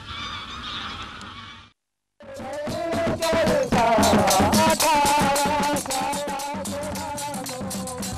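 Greylag geese honking in a wetland in Jammu and Kashmir, a loud, close chorus of overlapping nasal honks and cackles that follows a brief silent gap after some softer sound, with no voices.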